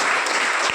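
Loud, dense clapping from a church congregation fills the whole moment, a steady wash of applause with no pauses.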